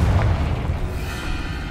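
The Confringo explosive spell from the video game Hogwarts Legacy goes off as a loud, deep boom that rumbles on and fades over under two seconds.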